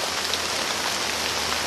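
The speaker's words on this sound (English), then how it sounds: "this is going to be just regular, nice, soft rain, good soak" Soft evening rain falling steadily on the ground and surrounding surfaces, an even, close patter of drops with no pauses.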